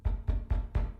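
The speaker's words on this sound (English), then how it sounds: "she heard a knock on the door" Four evenly spaced, heavy knocks on a door, each a dull thud with a short ring, steady rhythm and moderately loud, with no voices.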